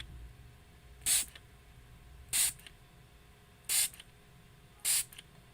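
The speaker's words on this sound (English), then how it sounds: "give this a little bit of a spray here" A spray bottle gives four short, crisp hissing spritzes of water onto watercolour paper at roughly even intervals, close by, with quiet pauses between each.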